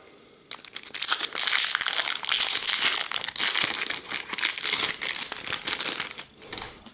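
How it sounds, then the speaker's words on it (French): Magic: The Gathering draft booster packs from Commander Masters are torn open, giving continuous close crinkling and ripping of foil wrappers in bursts over several seconds. "On va continuer. Allez, ouvrir les autres boosters."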